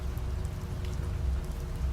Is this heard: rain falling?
yes